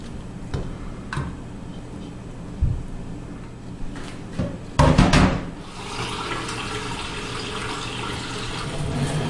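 Tap water pouring into a pressure cooker holding Jamaican-style oxtail: a few scattered clicks and knocks first, then a sudden gush settling into a steady, close, rushing flow that fills the pot, with no speech.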